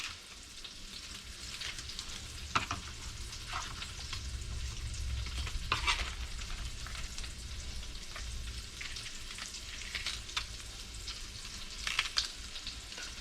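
Blackened speckled trout frying in a hot pan, giving a steady, close sizzle with scattered pops and crackles throughout and no talking.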